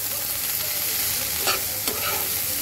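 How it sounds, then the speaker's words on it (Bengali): Water lily stems fry in a hot pan with a dense, steady sizzle that stays loud and close throughout, broken by two brief scraping knocks from stirring; no one speaks. "শাপলাটাকে খুব বেশি ভাজার দরকার নেই। 3 থেকে 4 মিনিট ভাজলেই শাপলাটা কিন্তু হয়ে যাবে।"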